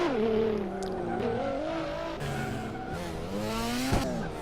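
A Hot Wheels race car braking hard in a racing series, its engine whining under a sustained, wavering tire squeal as it slows, loud and close.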